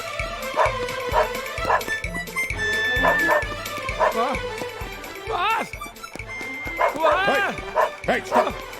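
A dog barks and yips repeatedly in quick bursts, with whimpering mixed in, while people talk nearby over the noise.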